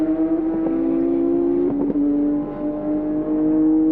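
A factory Porsche race car, number 26, at the 1997 Le Mans 24 Hours drones steadily with a loud sustained engine note that shifts pitch slightly as it runs, with brief mechanical clicks partway through and no voices.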